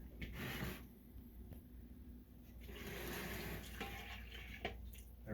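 Water poured from a container around the edge of a bowl of bread flour while mixing a poolish dough, a soft, steady splashing trickle lasting several seconds, with faint handling noises.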